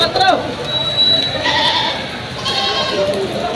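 Goats bleat several times nearby among other farm noise, with people talking in the background, while the goats are weighed in heavy rain.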